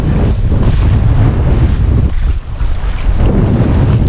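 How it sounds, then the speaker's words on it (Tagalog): Strong wind roars continuously across the microphone on a fishing boat while nets are hauled, with heavy low buffeting and gusts swelling and easing over a few seconds. "lakas ng hangin"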